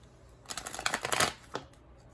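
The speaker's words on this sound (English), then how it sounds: "let me shuffle these" Tarot cards being shuffled in a quick riffle, a soft flurry of flicking snaps ending in a light tap, close and quiet with no talking.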